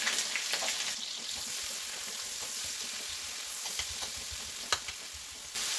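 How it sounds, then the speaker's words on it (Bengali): Onions frying in hot oil with bay leaf, cardamom and garam masala for a chicken biryani, a steady close-up sizzle with light crackles and occasional stirring clinks, no voices. "পেঁয়াজটাকে আমি একটু ব্রাউন করে নিব মানে লাইট ব্রাউন করে নিব"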